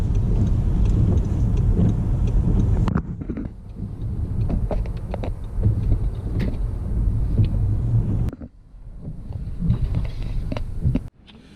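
A small car driving through a small car park and pulling up, a steady loud engine and road rumble that drops away near the end as the car stops, with no talk.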